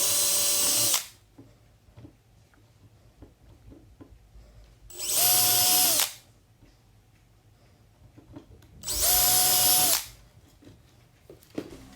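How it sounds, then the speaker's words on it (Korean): A power drill bores holes into a birch plywood stand in three separate bursts of about a second each. Each burst starts and stops abruptly, with quiet tapping and handling sounds between them. "전선이 받침대 밑으로 빠질 수 있게 하기 위해 전선 구멍을 미리 뚫어주고 나사로 고정할 위치도 미리 뚫어 놓습니다."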